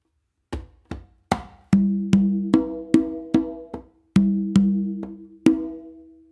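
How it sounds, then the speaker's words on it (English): Hand strokes on a conga drum in a repeating tumbao pattern of bass, finger and close slap followed by two open tones, played close and crisp with no voices. "it's a bass finger close slap and then two opens"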